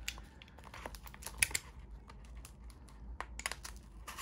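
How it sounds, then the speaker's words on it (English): Mail packages being opened and torn, with close, quiet bursts of paper crinkling, ripping and crunching scattered through the clip, no talking. "Alright, so I'm just going to open all these packages."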